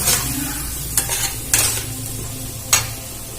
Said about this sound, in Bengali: দিয়ে মশলাটা ভালো করে নাড়াচাড়া করে নেব